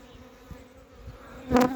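Honeybees flying busily around a hive in early spring after winter, a faint continuous buzz that swells into a louder, close pass near the end.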